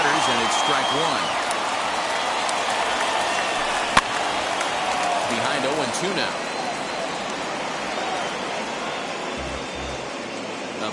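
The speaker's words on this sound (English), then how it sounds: "A big crowd here downtown." A large baseball stadium crowd of over 42,000 in San Diego keeps up a steady roar of cheering and applause between pitches, with a play-by-play announcer talking over it.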